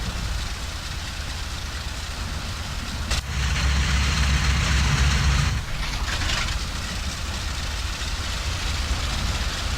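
A C-47 Skytrain engine in the IL-2 flight sim cranks and catches partway through, a heavy low rumble swelling over a steady engine drone for a few seconds before settling back to a constant hum.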